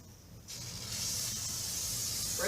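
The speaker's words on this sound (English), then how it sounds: "I'll do one with the spray adhesive" An aerosol can of spray adhesive hisses continuously as glue is sprayed onto the back of a label, a steady close spray starting abruptly and holding for two seconds.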